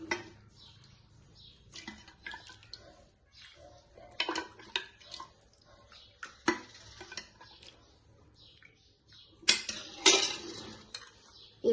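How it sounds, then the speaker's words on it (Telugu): Mutton paya soup being ladled into bowls: scattered close clinks and scrapes of a ladle against metal vessels, with quiet gaps between sharper knocks and a soft pouring swish. "నేను గిన్నెలకు తీసి చూపిస్తాను. ఇట్లా గిన్నెలకు తీసుకొని"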